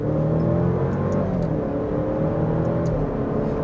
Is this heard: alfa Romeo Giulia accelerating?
yes